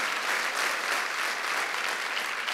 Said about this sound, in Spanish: Vamos, dale un fuerte aplauso al Señor.